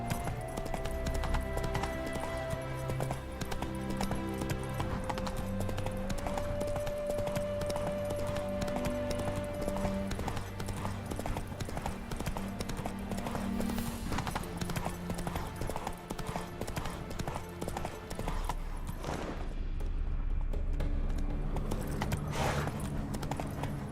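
Roach the horse galloping in The Witcher 3, a rapid steady clip-clop of hooves running continuously over a bed of game music, with a brief swell near the end.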